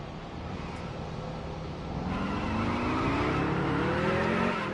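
Stock car in the NASCAR Heat Evolution game at Daytona with no grip, engine droning and wheels spinning, the pitch rising and intensifying midway as the tires spin, loud and continuous with no talk.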